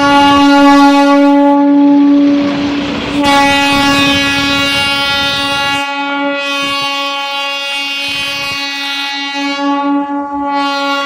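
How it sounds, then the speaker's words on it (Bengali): Darjeeling toy train near Ghum Monastery sounding a loud, sustained horn with rich harmonic tones, held for most of the passage with brief breaks, over a rumble of the approaching train on its narrow-gauge line under overcast skies. "একটা ট্রেন আসছে।"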